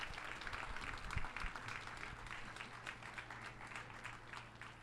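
Audience applause at a book presentation event, a steady dense wash of many hands clapping throughout, moderately loud and fairly close, with no talk over it.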